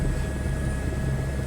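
A helicopter flies in Microsoft Flight Simulator 2024 over Paris, its engine and rotor making a steady, droning whir with a low rhythmic thump throughout.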